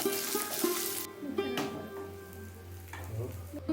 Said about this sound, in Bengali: কড়াইয়ে আমি গরম করে নিয়েছি 7 চামচ পরিমাণে সর্ষের তেল, দিয়ে দিলাম 2টো মিডিয়াম সাইজের পেঁয়াজ